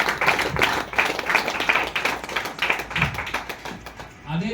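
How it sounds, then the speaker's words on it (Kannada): An audience at a business event claps in a loud, uneven burst of applause with distinct sharp hand strikes, while a voice speaks over it and the clapping tails off near the end. "ಅವರಿಗೆ ಜೋರಾದ ಚಪ್ಪಾಳೆ."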